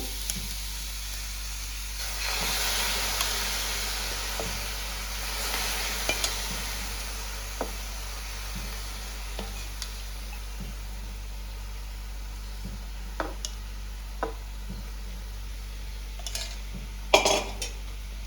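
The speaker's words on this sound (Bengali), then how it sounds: "কিছুটা ঘন দুধ দিয়ে নাড়াচাড়া করছি।" Thickened milk for dudh puli pitha is stirred in a pot, with a soft continuous bubbling hiss and scattered utensil scrapes and taps against the pot, growing briefly busier near the end.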